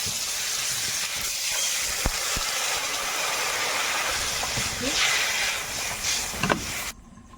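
Loud, continuous hissing sizzle of water added to a hot pan of spiced river fish, steady throughout with a few faint clinks, then cutting off abruptly near the end.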